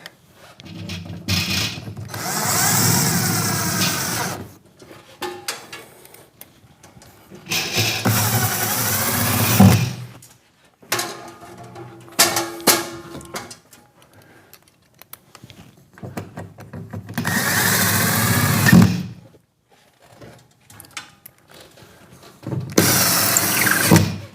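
Bursts from a power drill driving screws into a bracket for a slimline bay window curtain track come in four loud, whirring runs of several seconds each, separated by quieter handling noises and short pauses.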